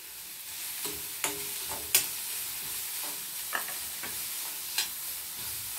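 Onion and capsicum sauté in a pan with a soft, continuous sizzle, punctuated every second or so by light spoon taps and stirring clicks, fairly quiet and close with no talking.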